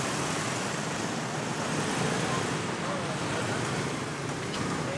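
Dense, steady street noise from a jammed city road, a constant broadband rumble of idling and creeping vehicles with no distinct horns, heard close and continuous throughout.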